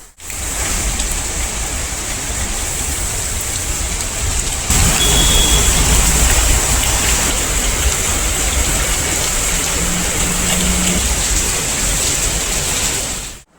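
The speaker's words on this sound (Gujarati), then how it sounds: "અત્યારે તો જુઓ કેટલો ભયાનક વરસાદ ચાલુ થઈ ગયો છે જબરદસ્ત રીતે." Heavy monsoon downpour pours down in a dense, constant roar of rain on surfaces, loud and close throughout, growing slightly heavier midway with no voices.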